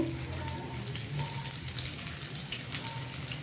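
Chopped onions dropped into hot oil for a Bengali chicken posto, giving a steady, broad frying sizzle that holds level throughout, close and continuous with no talk.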